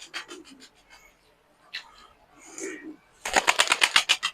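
Pigeon wings flap in a rapid burst of loud, rhythmic claps near the end, after quieter rustling and soft cooing-like sounds; Fırıncı Mahmut yellow pigeons.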